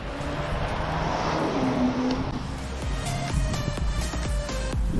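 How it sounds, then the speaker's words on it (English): A car passes nearby, a broad whooshing rumble that swells and fades over several seconds, with steady background noise throughout, heard while inline skating. "That car just disrupted my sound"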